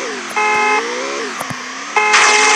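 A car horn in the video game Free Fire honks two loud, sustained tones separated by a gap, over the steady hum of the game's engine noise.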